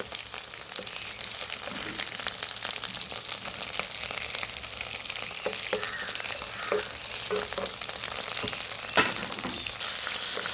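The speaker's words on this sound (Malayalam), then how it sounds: "പൊട്ടുകടല എടുത്ത് ഇങ്ങനെ വറുത്തിട്ടാൽ നല്ലതാണ്" Roasted gram frying in a pan, a steady bright sizzle with occasional light stirring scrapes and pops running throughout, with no one speaking.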